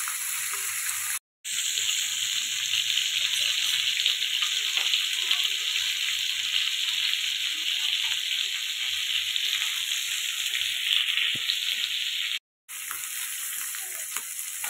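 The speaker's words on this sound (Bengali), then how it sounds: "দু পিস লাল করে ভেজে নেব মাছটা।" Two pieces of hilsa fish fry in hot oil, a loud, continuous close-up sizzle that runs alone without talk, broken twice by brief silent gaps.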